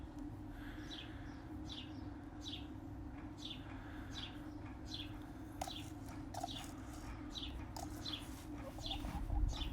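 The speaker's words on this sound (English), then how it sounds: "I don't know if her chirping comes through on the microphone or not." A hen gives a series of soft, rhythmic chirps and cheeps, faint and repeated about every half second over a low steady hum of the backyard coop surroundings.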